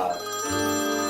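An old-style telephone rings in a 1950s home, a single sustained electronic-sounding ring with steady tones, close and fairly loud with no talk over it.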